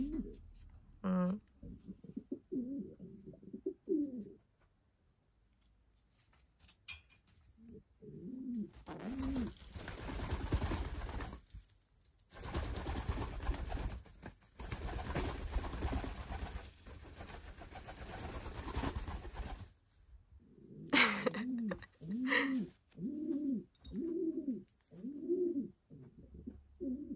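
Feral rock dove (pigeon) cooing in short rhythmic bouts near the start and again at the end, close and clear, with bursts of broadband noise and a bird-related voice in the middle.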